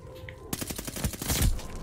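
Loud bursts of automatic gunfire from the Call of Duty Vanguard video game, a rapid rattle of shots starting abruptly and continuing in quick succession with no talking.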